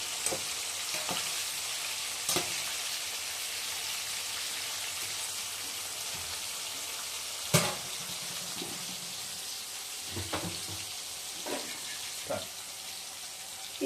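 Bitter gourd fries slowly in a pan with a steady soft sizzle throughout, broken by a few sharper clinks and stirring knocks spaced irregularly, close by and moderately quiet.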